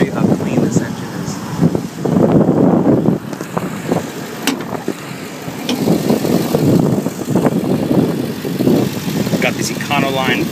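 A 2012 Ford E350 passenger van's V8 engine idles with a steady low rumble, close up, with wind buffeting the microphone throughout.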